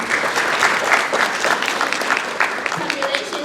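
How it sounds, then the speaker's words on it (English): A room full of people applauding at an awards night, continuous clapping at even loudness with a few sharper claps standing out. "Let's give a big round of applause"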